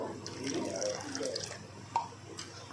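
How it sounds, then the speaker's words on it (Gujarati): Water poured into dosa batter, a close, soft trickle and splash of liquid followed by a single drip-like knock and faint stirring sounds, with a low background hum. "થોડું પાણી રેડીશું તેમાં"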